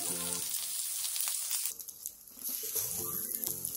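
Korean jeon, battered pancakes, frying in a hot oiled pan until golden, with a close, loud crackling sizzle that breaks off briefly and then returns as lighter spattering, and no voices.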